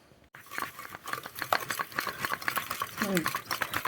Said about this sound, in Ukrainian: Так, додаємо в наші яєчки і збиваємо